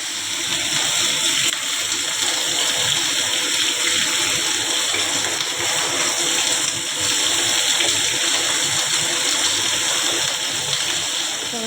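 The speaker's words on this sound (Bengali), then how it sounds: "এবার আমি জলও দিয়ে দিলাম" Water pours steadily and loudly into flour as dough is kneaded for luchi, a continuous rushing splash with no pauses, heard alone.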